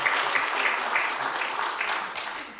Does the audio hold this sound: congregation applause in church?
yes